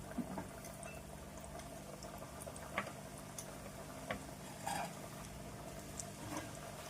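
Chakkilalu dough spirals frying in hot oil, a faint steady bubbling sizzle with small scattered pops and ticks, no talking.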